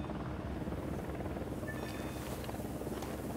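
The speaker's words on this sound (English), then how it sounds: "Trying to draw a helicopter back this way, but it didn't work out." A helicopter in the video game Ghost Recon Wildlands, its rotor thumping in a steady, dense drone that holds at an even level throughout, moderately close and with no talk over it.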